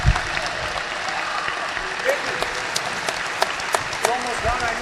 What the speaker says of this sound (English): Please give all of our seniors and their parents a big round of applause.